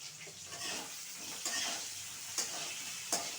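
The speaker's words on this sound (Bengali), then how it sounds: "আলুগুলো একটু উল্টে পাল্টে ব্রাউন করে ভেজে নিতে হবে" Potatoes turned and fried with a little turmeric in a pan, a steady close sizzle broken by several sharp scraping knocks of a spatula against the metal.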